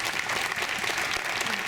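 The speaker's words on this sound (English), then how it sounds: "let's give another round of applause for all 10 of our speakers" Sustained audience applause at a chamber of commerce luncheon, a dense, steady wash of many hands clapping throughout with no pauses.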